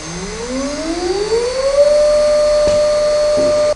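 The air-cooled high-frequency spindle of a chip breaker slot grinder spins up with a loud, rising whine that climbs smoothly for about two seconds. It then holds a steady piercing tone before cutting off abruptly, with no talking.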